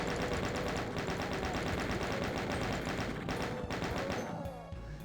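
Chaingunner machine-gun fire in Doom (Circle of Caina map), a loud, rapid, continuous stream of shots that rattles on for several seconds before tapering off with a few scattered thuds.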